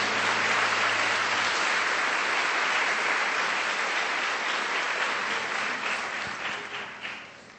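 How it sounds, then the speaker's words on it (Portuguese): A church congregation on a Sunday morning applauds the Lord, a long, loud, steady wall of clapping that gradually thins and fades toward the end. "Você pode dar um aplauso ao Senhor,"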